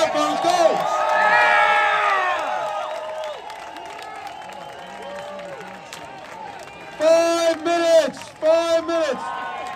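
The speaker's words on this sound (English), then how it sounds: "Cheer him on, guys, let's hear it for him. Let's hear it for him, let's go." An Oktoberfest crowd in Chippewa Falls, Wisconsin cheers on a contest winner, with whoops and shouting swelling early and then easing, while a loud announcer's voice talks over the noise.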